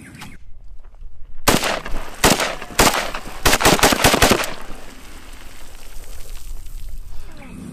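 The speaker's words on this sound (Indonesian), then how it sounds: "Wow, yang ini tembakan AK-47." A toy AK-47 fires its shooting sound effect in sharp bursts, single loud shots followed by a rapid rattling string, close and loud, then quieter background noise.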